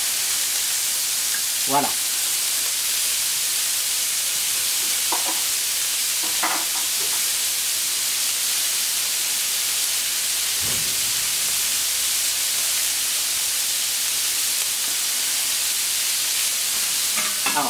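Beef cubes browning in a hot pan with paprika, a steady loud sizzle and hiss throughout, with a few occasional clinks of stirring and a brief spoken word.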